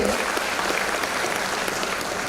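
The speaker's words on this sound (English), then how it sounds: "shall we have a big round of applause for the true titans of today?" Steady, dense applause rolls from an audience at an academic awards ceremony honouring academicians and researchers, continuous and moderately loud throughout with no break.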